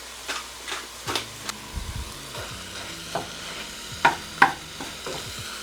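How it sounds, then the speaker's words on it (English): Ground beef seasoned with garlic powder, onion powder, salt and black pepper sizzles steadily in a pan while a spoon stirs it, with scraping strokes and a few sharper clinks over the frying. "I'm just gonna cook this until it's not pink anymore."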